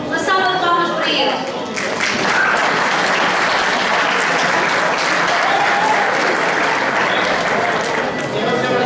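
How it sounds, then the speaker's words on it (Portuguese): A crowd applauds at a Bailinho folk dance performance by a senior group from Casa do Povo de São Brás, sustained loud clapping with voices briefly over the start. "Uma salva de palmas para ele."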